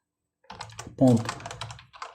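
Rapid clicking of keys being typed on a computer keyboard, close and steady, with a brief voice in the middle.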